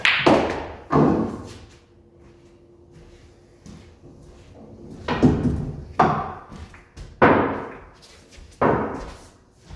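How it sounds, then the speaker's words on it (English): Pool cue striking the cue ball for a stun shot on a pool table, heard as several sharp, close knocks spaced out across the clip with quiet gaps between them. "a good way to shoot this shot is just to do a stun shot and just bring the cue ball straight down here"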